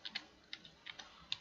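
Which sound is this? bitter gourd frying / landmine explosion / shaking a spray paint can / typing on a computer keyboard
typing on a computer keyboard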